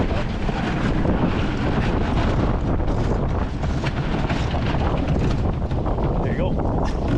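Heavy wind buffets the microphone aboard a sailboat, producing a loud, constant roar with rushing water beneath and a voice talking briefly through it.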